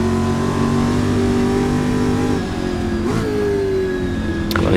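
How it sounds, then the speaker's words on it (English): A Lotus 40 race car roars past in a 1966 British Sportscar Championship race at Brands Hatch in a racing game, its engine note sustained and loud, the pitch dropping sharply as it passes, with a brief whoosh near the end. "Lotus 40s goes past us"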